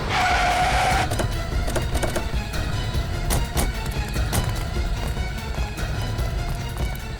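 Two identical cars pull away along separate roads in a crime-drama chase, engines roaring with tire skids and squeals, loud and continuous with sharp transient knocks throughout and no talking.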